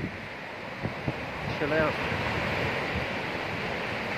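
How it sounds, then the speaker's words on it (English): Steady wind buffets the microphone on the seafront at Ban Chang, with a soft roar of surf and air underneath. A voice speaks briefly. "It's a bit windy"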